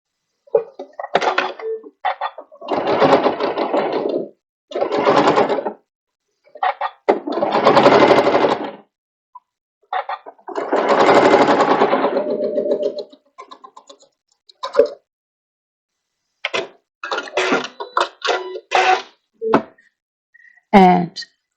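A Janome sewing machine stitching a rolled hem with a rolled hem foot runs in several short and longer bursts separated by pauses, close and fairly loud.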